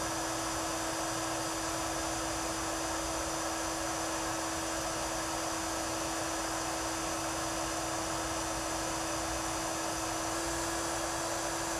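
A heater warming a Flaretek fluoropolymer tube as it is rotated, making a loud, steady blowing whir with a faint constant whine that runs unbroken from start to finish.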